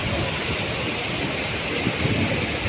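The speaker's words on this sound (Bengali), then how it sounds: "এই দেখো ঝমঝমিয়ে বৃষ্টি শুরু হলো।" Heavy rain pours down at midday, a steady, dense hiss of drops that fills the whole moment at an even, loud level with no pauses.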